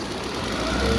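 A Maruti WagonR car engine idles with a steady, low, even hum that grows slightly louder over a brief moment, with no other sounds standing out.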